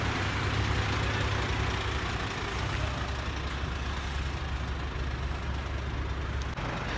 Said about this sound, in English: All the traffic coming down here.